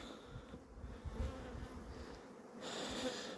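Weak, varroa-damaged honeybees crawling into a merged hive hum in a low, faint, steady buzz that swells slightly toward the end.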